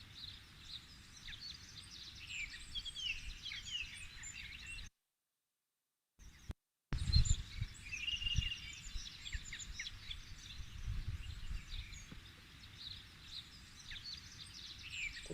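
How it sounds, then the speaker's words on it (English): Many birds chirp and sing outdoors in a continuous, fairly faint chorus of overlapping calls, steady for the whole stretch apart from a brief gap of silence. "Many birds"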